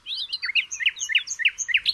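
Several birds chirp in quick, bright bursts, a steady run of high tweets close by with no voices.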